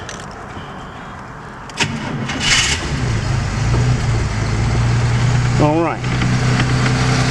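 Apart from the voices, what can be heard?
1934 Ford two-door sedan engine starting and running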